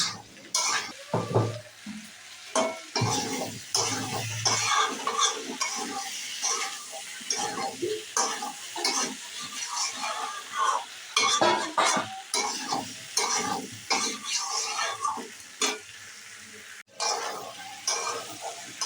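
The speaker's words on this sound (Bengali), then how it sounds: "সমস্ত মশলা দিয়ে আমি ভালোভাবে কষাতে থাকবো।" Small new potatoes with spices fry in a pan, a continuous close sizzle broken by repeated scraping stirs and light clinks of a utensil against the metal.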